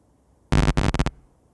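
Distorted vocal sound effect for Bubble from The Amazing Digital Circus: a loud, harsh, buzzy half-second burst split into several quick choppy pulses, standing alone against silence.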